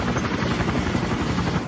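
Helicopter rotor in the cartoon American Dad, a steady loud chopping whir that fills the whole stretch without a break and with no voices over it.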